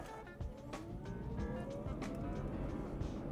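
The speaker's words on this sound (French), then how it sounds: "On entend juste les pneus travailler un petit peu." Tyres of a Dacia Spring electric car roll along a road at 30 km/h, a soft, steady low rumble with faint road noise and a few light ticks, heard from inside the quiet cabin.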